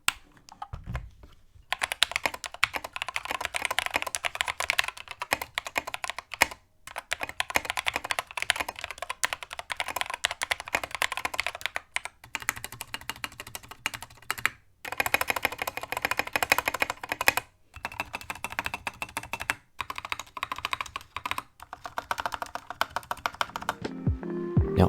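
Rapid, clacky typing on a mechanical keyboard with factory-lubed stabilizers, a dense close stream of keystrokes broken by a few brief pauses, with no talk.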